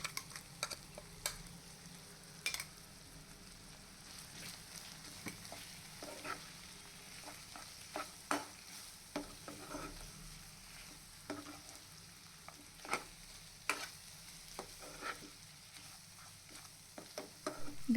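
Chicken dry cooking in a pan with ground spice powder, quiet low sizzle under repeated sharp clicks and scrapes of a spoon stirring, close and faint, no talking.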